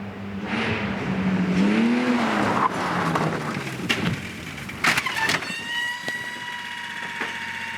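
A BMW E36 race car, a battered death kart, skids hard with loud tire squeal and engine noise, followed by a sharp impact and crunching clatter as it crashes, then a fading electronic whine.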